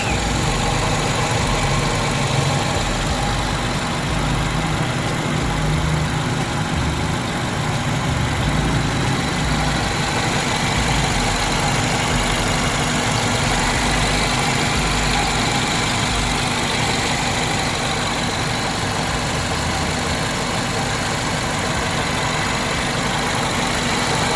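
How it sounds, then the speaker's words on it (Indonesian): A 2006 first-generation Honda Jazz i-DSI engine idles steadily, a smooth low rumble that holds at an even level throughout with no voices. "Untuk mesinnya bagus ya, suaranya juga masih halus."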